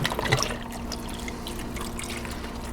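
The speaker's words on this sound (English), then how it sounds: "But first I'm going to put in 2 more cups of water." Water being poured into a Ninja Foodi Possible Cooker over corned beef, a steady close trickling splash that starts a bit louder and settles into an even, gentle stream.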